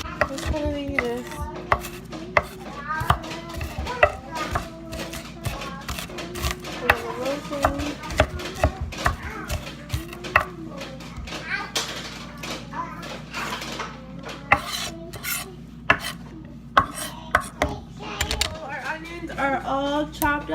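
Knife chopping an onion laid flat on a cutting board for vegan soup, a long run of quick, sharp close taps with occasional light clatter and some talking in between.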